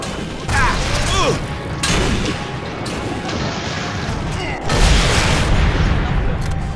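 Explosions in the video game Sniper Elite III go off in several loud, heavy blasts and crashes, separated by brief pauses and mixed with clanking mechanical game sounds.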